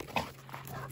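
Dogs at a boarding and daycare facility roughhousing, with one short bark or yelp standing out briefly against a steady background hum.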